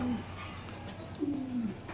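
A racing pigeon arriving at the loft after a race from Pagbilao, Quezon, gives a short close coo, then a longer rolling coo a moment later, clear over quiet room noise.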